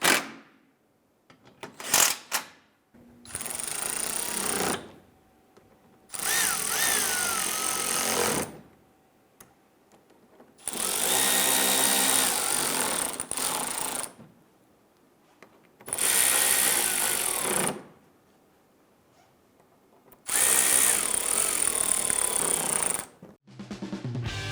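Power tool bursts tightening the engine splash shield hardware under a 2012-2017 Toyota Camry, four loud whirring runs of a few seconds each, separated by quiet pauses and a few short clicks.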